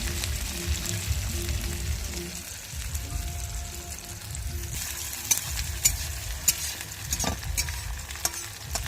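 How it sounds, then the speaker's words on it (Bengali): Onions frying in oil for a Bengali fish curry, a steady crackling sizzle with stirring scrapes and occasional sharp pops, close and continuous. "পেঁয়াজটাকে একটু লাল লাল করে ভেজে দিতে হবে।"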